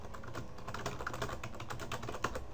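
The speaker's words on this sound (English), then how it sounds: "typing." Keys clatter steadily on a computer keyboard during document writing, with fast, uneven clicks throughout at close range and no voices.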